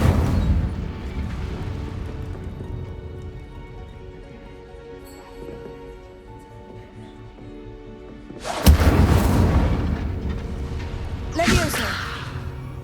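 Incendio fire spell cast in Hogwarts Legacy, a sudden loud whooshing blast of flame that bursts in over a low game ambience, followed a few seconds later by a second, shorter burst.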